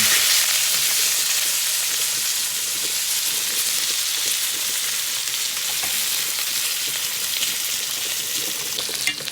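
A fat ribeye steak fries in a pan with butter, rosemary, thyme and garlic, giving a loud, continuous, close hiss of sizzling fat with faint crackles throughout and no talking.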